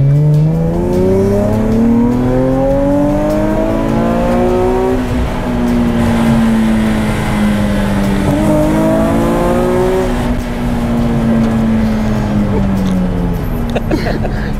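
Nissan 370Z engine revving loudly and steadily, its pitch sweeping up and easing back down in long continuous pulls with no pauses, sitting close and alone without talk over it.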